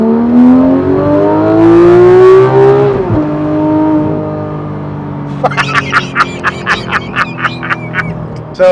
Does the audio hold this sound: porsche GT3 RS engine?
yes